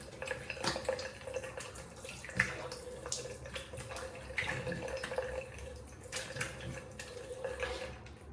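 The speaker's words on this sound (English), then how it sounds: "Let me just rinse, I'll be back shortly." Tap water runs steadily into a sink for rinsing after a straight-razor shave, with soft splashes, drips and a few small knocks scattered throughout, fairly close and with no talking.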